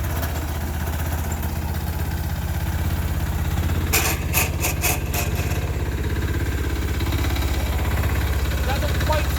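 A Sears Suburban tractor's 6HP diesel engine runs at a steady chugging idle while its slightly tight drive belt walks, with a brief burst of clattering knocks in the middle.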